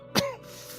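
A single short cough, close and abrupt, followed by a moment of quiet.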